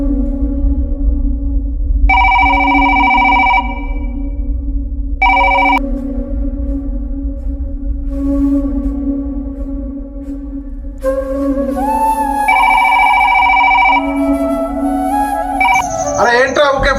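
A telephone rings with an incoming call, repeated electronic ring bursts over a steady hum and music bed, fairly loud and close, with a voice briefly heard near the end.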